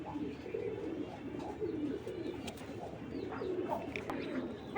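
Racing pigeons coo softly and repeatedly under a steady murmur of background noise, with a few faint chirps, while someone talks about a large homer pigeon.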